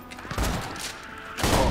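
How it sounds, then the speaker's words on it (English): Two booming shotgun blasts from the video game Borderlands 2, Tiny Tina's Assault on Dragon Keep, land about a second apart amid dense in-game combat noise. "Takes about three direct hits from my shotgun."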